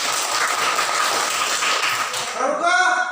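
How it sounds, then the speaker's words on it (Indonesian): A school class claps hands during a mathematics lesson, giving a dense burst of applause that fades into a teacher's voice near the end. "Tepuk tangan."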